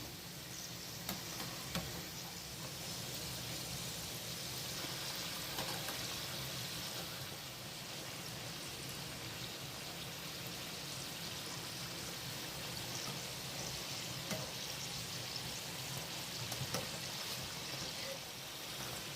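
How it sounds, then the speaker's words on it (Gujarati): Samosas deep-fry steadily in hot oil, producing a continuous soft bubbling hiss at low volume that stays even throughout with no voices. "આવી રીતના બ્રાઉન થાય ત્યાં સુધી આપણે સમોસા તળવા દેવાના રહેશે"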